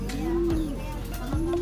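A large racing pigeon, a 700-kilometre race finisher, coos up close: two low, rolling coos with a steady background hum.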